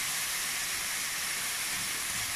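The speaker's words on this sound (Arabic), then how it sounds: "الخضار يا حبيب قلبي تشويحه مع بعض اهو" Vegetables and carrots sizzling in a hot pan on a gas stove, a steady, loud, broadband hiss with no talk over it.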